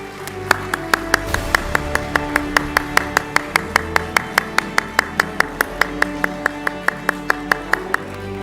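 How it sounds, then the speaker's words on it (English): Rhythmic clapping at an award ceremony and hall of fame induction, crisp evenly spaced claps repeating about four times a second over a steady sustained tone, fairly loud and close, with no voices. "Please keep the round of applause going."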